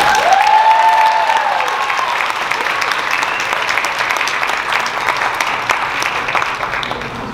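Audience at a college Chinese dinner and fashion show applauding, sustained full clapping from a large crowd, loud and steady, with a brief tonal sound at the start and faint voices underneath.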